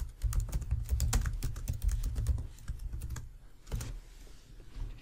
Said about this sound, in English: Let's type in some text.